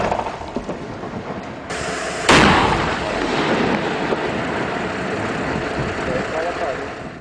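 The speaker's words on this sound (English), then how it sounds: "Blocks of granite are blasted apart from the rock at the quarry" A rock blast at a granite quarry breaks out blocks, a sudden loud burst followed by a long roaring rumble of falling stone, with a narrator's voice talking over it.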